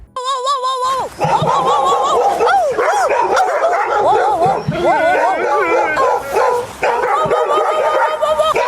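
A person mimics a dog with loud, close yips, barks and whimpering whines, delivered continuously in quick succession with brief pauses.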